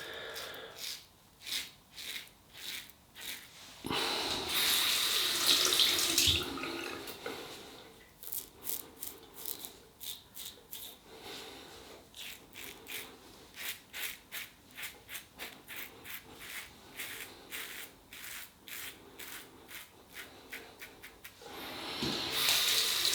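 Tap water runs in bursts as hands are rinsed during a shave with a Wilkinson Sword Flip-Top double-edge razor and slick shaving cream; a steady gush comes first, then short, rhythmic splashes and rubbing, with a final gush at the end.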